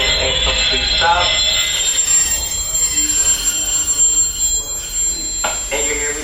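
A Magic Kingdom park train rolls into Frontierland Station with steady rumbling wheels and some high squealing. A bell or chime rings and an announcer speaks over the train noise throughout.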